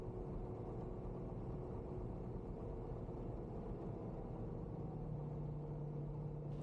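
Rutan Boomerang asymmetric twin-engine plane taxiing up to a hangar, its engines a steady low rumbling hum heard from nearby, continuous and even with a faint tonal whine rising near the end.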